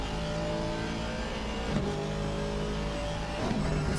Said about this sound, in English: Sound of that Aston is just beautiful.